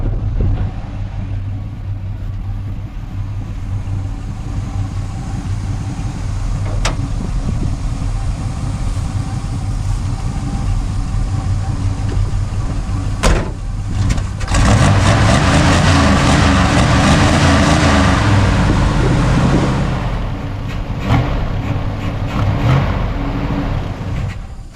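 An old Chevrolet Squarebody pickup truck, abandoned and recently revived, idles and then pulls away with a rising engine roar, loud and close, with engine rumble throughout.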